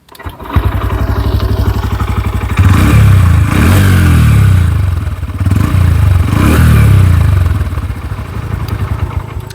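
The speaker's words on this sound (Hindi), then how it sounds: "मैं आपको एग्जॉस्ट नोट जो है मैं सुना ही देता हूँ, तो स्टार्ट करते हैं।" A Honda CB 125 Hornet motorcycle's single-cylinder exhaust putters at a close, loud idle, then is blipped twice into short rising revs that fall back to the steady thump.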